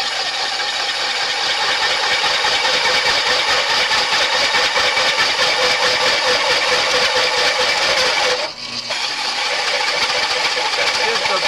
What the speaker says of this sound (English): Just the belt slipping